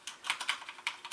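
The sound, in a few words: typing on Corsair Strafe RGB Cherry MX Brown mechanical keyboard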